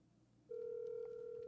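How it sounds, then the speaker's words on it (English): A phone dials out on a call, a quiet moment giving way to a sudden, steady electronic tone that holds for about a second, clear and alone. "Let me see if she'll answer the phone real quick."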